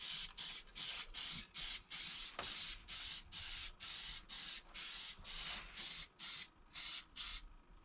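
Black paint is sprayed from a can onto a metal part in a steady series of short hissing bursts, about fifteen evenly spaced puffs, close and fairly quiet with no talking.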